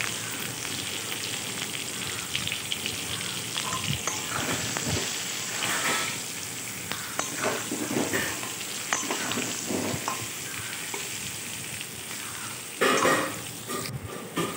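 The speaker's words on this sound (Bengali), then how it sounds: "নুন হলুদ দিয়ে আলুটাকে ভেজে নেবো।" Potatoes frying in oil with salt and turmeric while a mutton curry is being cooked: a steady, close crackling sizzle throughout, with occasional stirring scrapes and brief louder bursts near the end.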